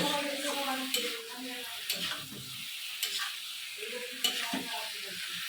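Duck meat with spices being sautéed and stirred in a pan, giving a steady sizzle broken by scraping strokes of the spoon roughly once a second, close and moderately loud with no talking.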